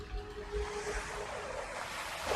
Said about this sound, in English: It makes a waterfall.